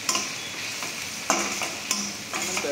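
Finely chopped green chillies are stirred into capsicum sautéing in a hot pan, producing a constant close sizzle broken by a few distinct scrapes of the spoon, with no talking.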